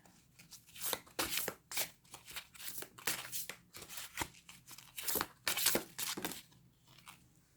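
Oracle cards are shuffled by hand in quick, crisp bursts of riffling and sliding, repeated in uneven clusters at close range against a quiet background, with no voice.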